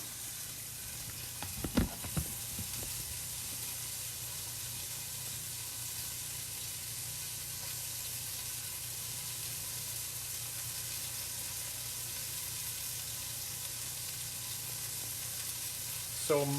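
Chicken pieces browning in a hot pan sizzle with a quiet, steady hiss throughout, joined near the start by a couple of brief clanks from handling the pan.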